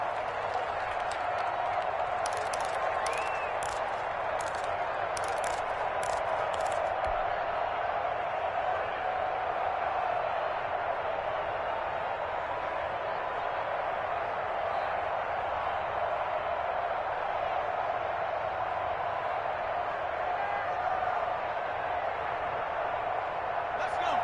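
A big crowd in a football stadium at a San Francisco 49ers game makes a steady, distant roar throughout, with a brief patter of clapping early on and faint voices in the mix.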